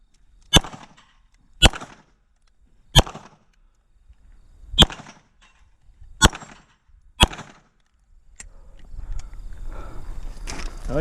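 Six loud, sharp gunshots ring out one by one at uneven intervals on a 2-gun shooting competition stage, followed by a rising rustle of movement and handling noise.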